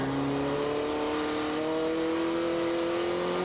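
A drift car's engine revs hard and steady on a hill during a drift competition, its loud, continuous drone rising slowly in pitch over a few seconds with no talking.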